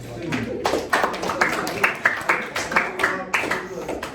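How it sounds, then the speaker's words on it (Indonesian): A classroom group gives scattered applause after a student group's presentation, irregular claps rising and falling close by for about four seconds with murmured voices mixed in. "Baik, kita berikan aplaus."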